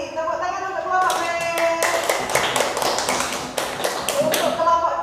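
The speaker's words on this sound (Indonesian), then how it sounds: "Tepuk tangan untuk kelompok B." Classroom group clapping for a student team after its presentation, a dense patter of hand claps running steadily through the whole stretch, with a voice speaking over it at the start and end.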